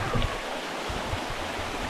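A river stream flows near a trail to a waterfall in Busuanga, Palawan, giving a steady, close wash of rushing water with no talking.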